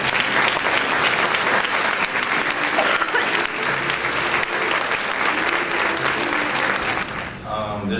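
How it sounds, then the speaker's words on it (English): An audience claps loudly and continuously for champions being introduced at a board meeting, a dense, sustained wall of applause that thins out near the end. "Let's give them a round of applause."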